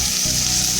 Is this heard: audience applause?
no